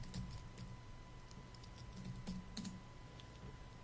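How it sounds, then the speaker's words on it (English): Typing on a computer keyboard while entering something into a web browser, a steady run of soft, quick key clicks under a faint constant hum, with no talking. "then I'm gonna type in"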